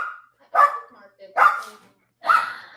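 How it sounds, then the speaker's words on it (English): Excited dogs barking, three loud separate barks with brief whimpering yips between them, close and clear with nothing else over them. "sends us a video of his dogs going crazy while watching my stream."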